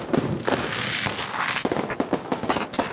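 A rapid string of sharp Diwali firecracker bangs in a park, crackling one after another, loud and close, with a dense burst of pops toward the end.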